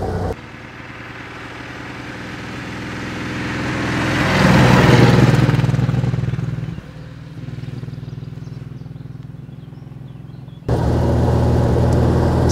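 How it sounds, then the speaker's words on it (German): A 1934 Talbot London AV105 engine running from inside the moving car, a low steady chugging drone that swells and eases with throttle changes, loud and close with no talk over it. "Tuckert auch schön, Motor hört sich sehr gesund an."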